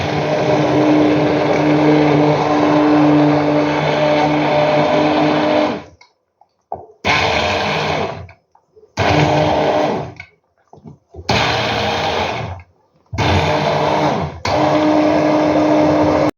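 A kitchen blender purees soup, its loud motor whirring steadily for several seconds, then running in short bursts separated by silent pauses.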